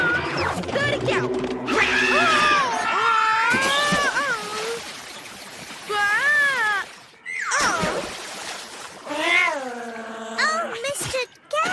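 A cartoon cat meows and caterwauls in long, wavering, drawn-out cries, several separate yowls rising and falling, loud and close, with breaks between outbursts.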